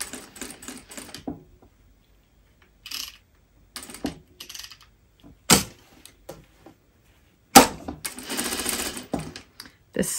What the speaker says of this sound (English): is overlocking the edge of that because I want it not to fray